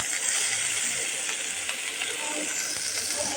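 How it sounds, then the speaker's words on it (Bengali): Chopped green chillies hit hot oil in a pan used to fry fish, giving a steady, bright, close sizzle that runs evenly throughout with faint crackles and no talking. "এখন আমি দিয়ে দেব কাঁচামরিচ কুচি"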